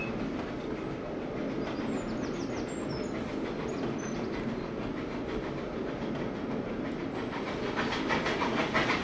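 A steam locomotive on the Swanage Railway route in the Trainz Plus train simulator chuffs steadily, with a rapid, even rhythm over constant hissing rail noise that grows slightly louder near the end.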